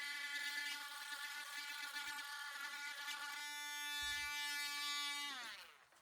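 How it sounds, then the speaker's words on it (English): A handheld Dremel fitted with a soft steel wire brush scours rust and stuck dirt from the headstock of a vintage West German guitar, a loud steady high whine that shifts pitch midway and then winds down at the end. "I remove all the hard stuck dirt and rust with a handheld Dremel tool using a soft steel wire attachment"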